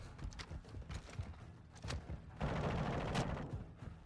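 AK assault rifle firing in Modern Warfare 2, several short bursts of shots with gaps between them, fairly faint, then a denser rattle of gunfire near the end.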